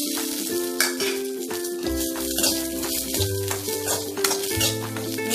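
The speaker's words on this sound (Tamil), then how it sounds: "மீடியம் ஃப்ளேம்லேயே வச்சு வதக்குங்க" Browned grated coconut and onion are sautéed together over a medium flame for drumstick masala gravy, a soft sizzle under repeated clinks and scrapes of a metal ladle against the pan, close and without voices.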